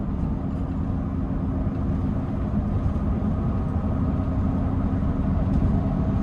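Steady, even drone of a 2021 Mercedes-Benz Sprinter 2500 4x4 custom off-road conversion van with a V6 turbo diesel, heard from inside the cabin while driving, a continuous low engine and road rumble with no talk.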